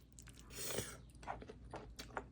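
Someone eats homemade oil pasta made with tofu noodles, with soft close chewing and a few small crunchy bites, faint and without talk.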